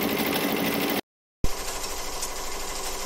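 A Ricoma EM 1010 embroidery machine stitches an applique, giving a loud, steady, rapid mechanical whir and needle clatter that cuts out briefly and then resumes.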